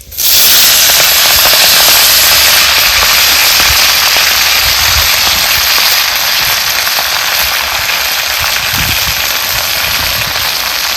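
Leafy wild greens, drained from water, drop into hot oil with cumin and sizzle at once in a loud, close, steady hiss that holds for several seconds with faint crackles and no voices.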